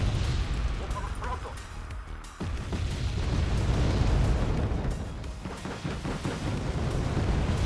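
Mortar explosions in Wargame Red Dragon arrive as dense, booming rumbles and sharp bursts in a continuous loud barrage of battle noise.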